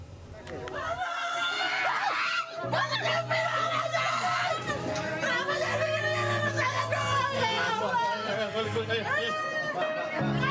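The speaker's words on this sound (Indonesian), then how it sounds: "Tangisan dan teriakan meminta keadilan pecah saat Pengadilan Negeri Jakarta Timur mengeksekusi rumah di Penggilingan" A crowd cries and screams during a court-ordered forced house eviction in Penggilingan, Cakung, East Jakarta: loud, continuous wailing and shouting voices overlap in a chaotic, agitated hubbub throughout.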